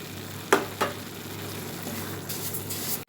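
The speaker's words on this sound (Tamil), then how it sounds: "ஆட் பண்ணி கிண்டி விட்டுக்கலாம்." Carrot halwa with sugar added is stirred in a pan. Two sharp scrapes come first, then a low steady sizzle, with a brief rustle of stirring near the end. No one speaks.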